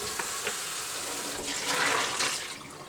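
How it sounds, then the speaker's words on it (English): Running tap water pours steadily while a bowl is rinsed out at a kitchen countertop, a continuous close splash that swells louder midway before easing off. "Rinsing it out is just something you gotta do."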